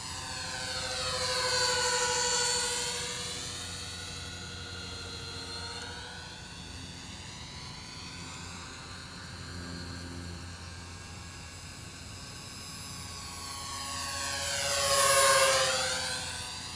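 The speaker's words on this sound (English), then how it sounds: "It's actually a really good flying little plane, and it's fun to fly." A Parkzone UM Mosquito Mk VI ultra-micro model plane flies overhead, its whining motor sweeping up and down in pitch as it passes, loudest near the start and again near the end.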